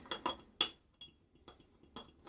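A shaving brush clinks against a glass or ceramic lather bowl while loading soap, giving several light, bright chinks spaced irregularly, close and fairly quiet.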